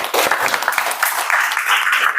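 Classroom applause from students, a burst of many hands clapping loudly and steadily throughout, close and dense with no pause.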